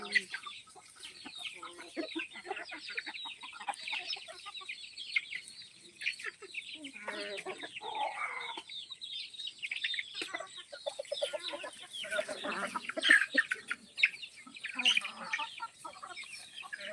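Desi country chickens on a village poultry farm cluck and chatter continuously, with many overlapping calls at moderate distance throughout.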